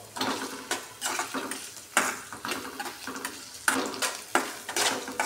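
Curry leaves crackle and sizzle in hot oil in a pan while a spoon scrapes and stirs in repeated bursts, close up, while making idli upma.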